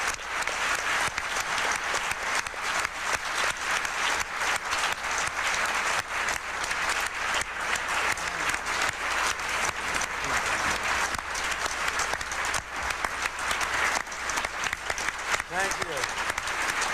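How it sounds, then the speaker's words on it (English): Applause from an audience at a 1996 public event on education reform fills the space, sustained and dense throughout, a steady wash of many hands clapping at even loudness with no break. "May I have a round of applause, please, for Milton and Rose Friedman."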